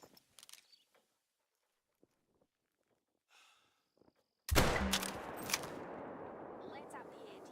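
A single sharp rifle shot fired at a can outdoors bursts out loudly after a quiet stretch of faint footsteps and small sounds, then decays into a lingering rumbling echo.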